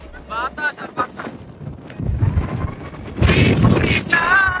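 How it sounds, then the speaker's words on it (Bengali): Strong gusting wind at a beach in Cox's Bazar buffets the microphone with loud low rumbling bursts that build and stay heavy toward the end, with people talking briefly early on. "এত বাতাস টিকা যাচ্ছে না"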